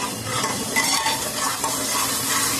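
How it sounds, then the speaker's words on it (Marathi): A paste of ginger, garlic and tomato fries in hot oil for a mutton sukka, a loud, dense sizzle with stirring scrapes throughout, no voices. "आता हे मी चांगलं परतून घेत आहे"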